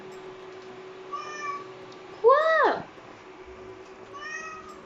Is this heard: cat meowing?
yes